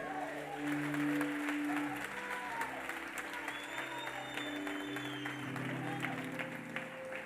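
A church congregation applauds during a sermon, steady scattered clapping over a sustained organ or keyboard chord in the background, moderately distant.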